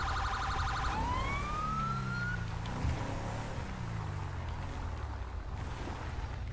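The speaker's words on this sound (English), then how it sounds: "It is a good sounding siren, though." A police car siren in GTA V with the LSPD:FR mod opens with a rapid yelp, then switches to a rising wail that falls away, loud over engine rumble and alone without voices.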